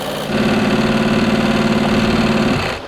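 A BMW or Porsche car engine runs with its oil drained while being brake boosted in reverse, a loud, strained, steady drone that jumps up after a brief quieter start and holds before easing off.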